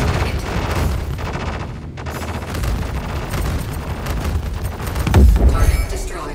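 Weapon fire striking ship shields in a Squadron 42 space dogfight, rapid rumbling volleys of impacts and bursts that run continuously and loudly, with a heavier low thump near the end.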